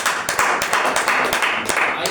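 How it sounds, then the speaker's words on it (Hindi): Audience at a church sermon applauding to welcome a speaker, dense continuous clapping from many hands, loud and close, with a voice speaking over it. "आइए जोरदार तालियां वेलकम करेंगे"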